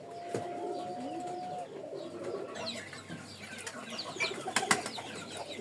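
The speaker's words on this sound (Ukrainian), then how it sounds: "Такі голуби маленькі, мініатюрні, клювики маленькі." Small miniature pigeons call with soft coos among other bird chirps, one steady tone early on, and brief wing flutters, moderately near in an outdoor loft with no talk.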